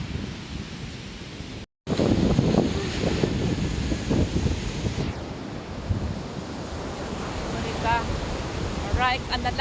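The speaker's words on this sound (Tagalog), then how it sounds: "Grabe ang susungit ng alon." Rough surf crashes and roars continuously with wind noise on the microphone; a voice talks over the heavy waves, and birds chirp faintly near the end.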